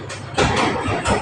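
A 6M70 tractor-head diesel engine runs loud and close, rising in two revving surges over a steady rumble.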